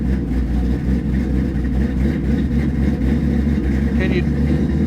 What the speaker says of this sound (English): So when you're idling, it does this, but you get that cam low kind of stutter